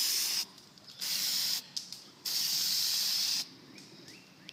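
Spray paint hisses from an aerosol can onto a rusty trailer in three close, steady bursts of varying length separated by brief pauses, with no talk.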